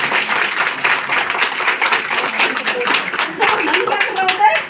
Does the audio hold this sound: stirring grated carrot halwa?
no